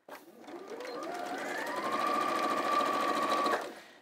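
A sewing machine runs steadily while stitching down the ends of a piece of fabric, a close, even motor whine with a rapid needle patter that holds for about three and a half seconds before stopping.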